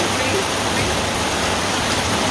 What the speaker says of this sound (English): It's really downpour, pretty wet